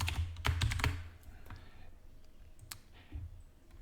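Computer keyboard keys clatter close by in a quick burst of clicks, then a few scattered taps, with no one speaking.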